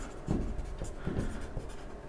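Pen writing by hand on paper during an accounting lesson, a few short scratchy strokes close by, with no talk over them.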